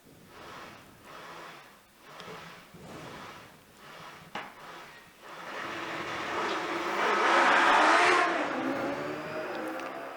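OMS 3.2 litre V8 race car at a hill climb start line, engine blipping in short revs, then launching into a rising roar that peaks and fades slightly, heard from nearby.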